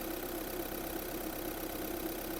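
A Volkswagen Golf VI with an automatic transmission idles steadily, a smooth continuous engine hum with no voices and no change in pitch.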